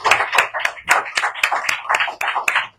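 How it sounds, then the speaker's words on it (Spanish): Rhythmic hand clapping at a church marriage podcast gathering: about ten sharp, evenly spaced claps over a few seconds, close and fairly loud, with no talking. "¿cuántos le pueden dar un aplauso al Señor por este tiempo?"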